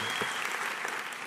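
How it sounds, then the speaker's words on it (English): Applause from an audience at a student team's design presentation, a dense, even patter of many hands clapping throughout. "They definitely deserve applause."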